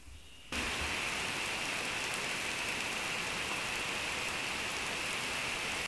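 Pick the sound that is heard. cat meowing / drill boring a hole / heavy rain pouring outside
heavy rain pouring outside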